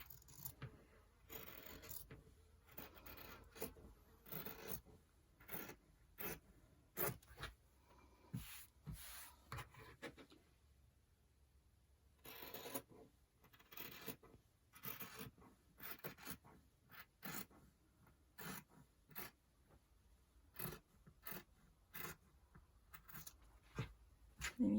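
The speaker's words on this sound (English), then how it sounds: "I'm just going to cut it out with my scissors." Scissors cut through paper in short, repeated snips and rasping slides, close and quiet, with brief pauses between bursts of cutting.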